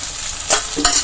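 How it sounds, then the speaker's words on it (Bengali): Garlic, ginger and green chili paste fries in a pan, sizzling close by as a spatula scrapes through it twice in quick strokes. "রসুন, আদা, কাঁচা লঙ্কার কাঁচা গন্ধটা না যাওয়া অবধি আমি এটাকে ভালো করে নাড়ব।"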